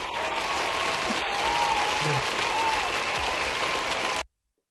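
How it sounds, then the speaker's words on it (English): A studio audience bursts into a steady round of applause, dense and sustained for about four seconds before cutting off abruptly, with no talking over it. "Round of applause for that."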